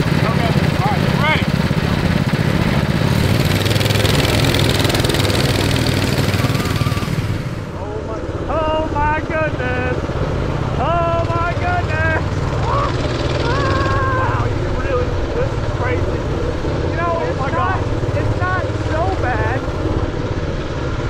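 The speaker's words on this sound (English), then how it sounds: "It's hard to describe the feeling of riding in the middle or on the back of this mini bike." A three-engine, three-seat mini bike roars loudly and steadily as it is ridden, its engine note shifting pitch, while riders shout and talk over it.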